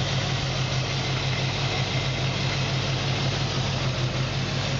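A 1966 Ford Mustang Fastback V8 idles smoothly and evenly, a steady low rumble with a constant hum, loud and close, with no voices.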